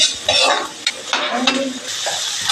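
Garlic sizzles loudly in a hot pan while being stirred, with bursts of crackle and spatula scraping against the metal, close and continuous.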